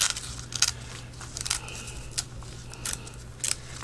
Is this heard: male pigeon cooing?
no